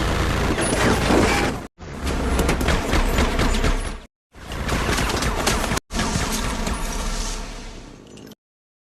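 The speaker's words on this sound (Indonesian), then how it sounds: "Dan mereka menembaki secara brutal dan Jesse yang tertembak akhirnya tewas di tempat." Bursts of rapid automatic gunfire from a Fast and Furious film scene, loud and dense, in four sustained volleys separated by brief silences.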